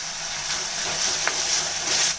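Loud, steady sizzling of chopped tomatoes frying in a pan for a mushroom curry, a continuous hiss with one brief crackle partway through.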